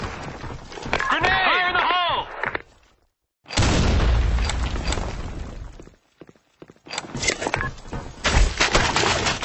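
Grenade blasts and gunfire in a Counter-Strike style first-person shooter match, loud booming bursts separated by short silences, with a voice shouting over the first stretch.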